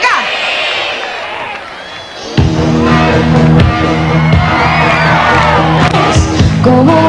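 Concert audience at a show cheering and shouting with whoops, crowd noise filling the space before loud band music kicks in partway through.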